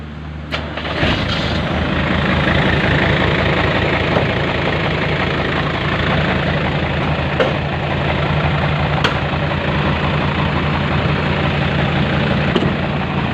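A modified dump truck's engine catches and settles into a loud, steady low idle up close, a continuous heavy rumble with a faint knock and a few sharp clicks.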